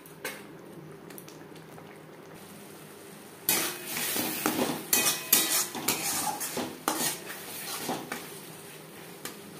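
Spice paste for a silver carp curry is stirred in a pan over medium-low flame. Quiet at first, then a close run of repeated spoon scrapes and metallic clanks with a light sizzle underneath.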